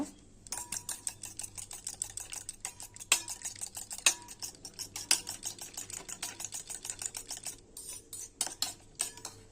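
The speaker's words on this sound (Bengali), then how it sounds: "দিয়ে ডিমটাকে আমি ফাটিয়ে নেব, ভালো করে ফেটে নেব" A fork or whisk beats egg with ground black pepper in a bowl, fast rhythmic metallic clicks that run continuously with a few brief pauses, close and crisp.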